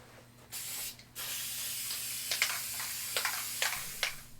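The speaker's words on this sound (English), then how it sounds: "we're just going to use a little bit of spray adhesive to go between the two layers" A can of spray adhesive hisses in two short bursts, then one long, steady spray with slight pulses, up close, gluing upholstery layers for a van door panel.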